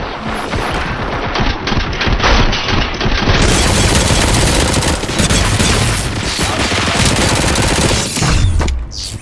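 Sustained heavy gunfire fills a RoboCop: Rogue City video game battle, a dense fusillade of rapid shots and booms running loud and continuous for the whole stretch with no talk over it.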